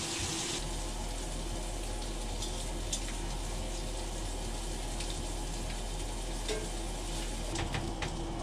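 Fish sizzling as it fries on a stove out on a frozen lake during ice fishing, a steady hissing crackle with occasional faint pops, continuous and fairly even throughout.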